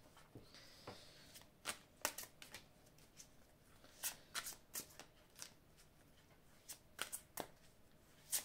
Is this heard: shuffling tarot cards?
yes